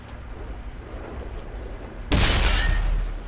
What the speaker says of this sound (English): I loaded my shot and I still missed, didn't give it enough lead